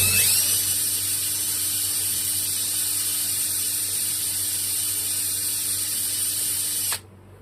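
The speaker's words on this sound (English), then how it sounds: "Got it chucked up in the screw gun, got some really fine grit, what is it, I can't even tell, it's very well used sandpaper" Small carburetor part from a Bolens Husky 18 push mower chucked in a screw gun and spun against very fine, well-worn sandpaper with penetrating oil; a steady high-pitched motor whine runs continuously for about seven seconds, then stops abruptly.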